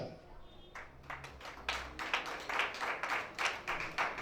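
Congregation at an El Shaddai prophetic conference in Libreville, Gabon, breaking into applause, scattered claps building into loud rhythmic clapping that fills the hall.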